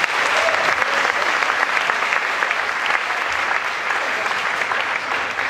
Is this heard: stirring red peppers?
no